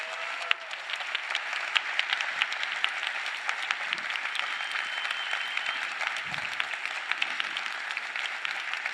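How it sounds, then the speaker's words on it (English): A congress audience at the ALDE Party Congress 2024 gives sustained, even applause for the bureau candidates, a dense continuous patter of many hands filling a large hall throughout. "Can I ask for a very warm round of applause for all of our candidates?"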